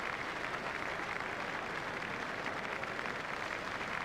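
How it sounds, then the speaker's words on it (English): A cricket crowd at a Test match in Cape Town applauds a batsman's half century, steady dense clapping from a large stadium audience that holds evenly throughout without any voice over it. "Crowd are standing to applaud him."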